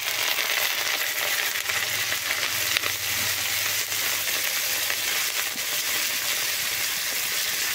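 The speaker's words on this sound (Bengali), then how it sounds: "তেল গরম হয়ে গেছে, একে একে সবজিগুলো দিয়ে দেব। প্রথমে দিয়ে দেব ফুলকপি" Cauliflower pieces fry in hot oil with a loud, steady sizzle and crackle that runs continuously throughout, close up, with no speech.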